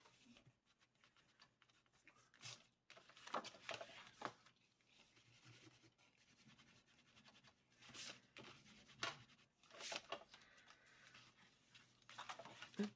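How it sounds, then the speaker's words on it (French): Eraser rubbing out small pencil guide marks on a paper baby album page, heard as bursts of soft scratchy rubbing with brief pauses, close and fairly quiet with no talking. "Je vais gommer mes petits repères parce qu'on n'en a plus besoin."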